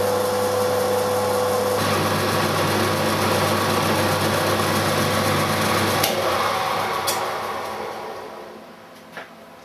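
A centre drill runs in a metalworking machine, a steady loud whine with a humming tone that later cuts away, leaving rough cutting noise that fades toward the end.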